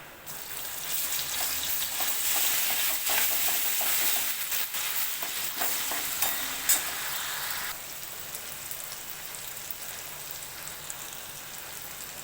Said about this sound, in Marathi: आलं लसणाची पेस्ट चांगली फ्राय करून दिली